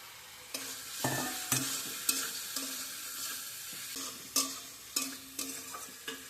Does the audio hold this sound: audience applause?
no